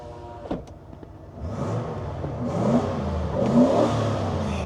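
1994 Ford Econoline van with a 5.8 V8 cranking and firing up, a short starter whir giving way to a deep rumbling idle, then blipped revs swelling and settling, heard close from inside the cabin.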